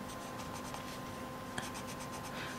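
Close, steady scratchy strokes of a very pale yellow colouring pencil shading on paper, rhythmic back-and-forth rubbing with one sharper tap partway through, quiet and alone with no talking.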